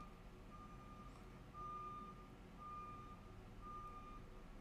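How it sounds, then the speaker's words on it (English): A truck backing up at night on a residential street sounds its reversing alarm: four evenly spaced, faint, steady beeps over a low engine rumble, coming from some distance away. "Why is there a truck that makes this sort of sound in my neighborhood this late?"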